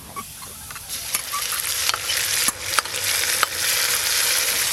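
Homemade Schezwan sauce hits hot oil with chopped garlic in a pan for Schezwan momos, a loud continuous sizzle broken by several sharp scrapes and knocks of a spatula, no talk.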